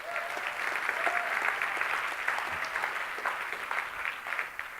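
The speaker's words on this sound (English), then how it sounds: "Give him a nice round of applause." Audience applause at a talk on communication, NLP and Qi: a steady wash of many hands clapping at close range throughout, with scattered cheers or voices faintly mixed in.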